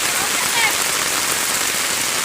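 Steady, dense rain hisses across a surface without pause, loud and close, with no voices over it.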